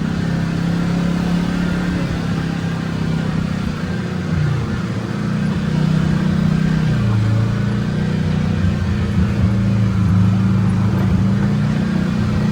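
A car climbing the unpaved switchbacks of Engineer Pass, its mid-pitched engine droning steadily and rising and falling with throttle, with constant road and cabin rumble and no talk.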